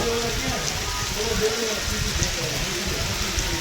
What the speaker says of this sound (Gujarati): ફૂલે ફૂલ આવી રહ્યો છે વરસાદ